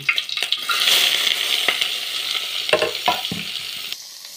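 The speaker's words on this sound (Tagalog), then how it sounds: "So diri nga side magpainit ng tagmantika aron gisahon na nato ang mga ingredients." Lemongrass, garlic and onion sautéing in a little hot oil, a steady sizzle with a few scraping stirs and clinks near the end.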